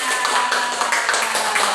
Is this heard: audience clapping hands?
yes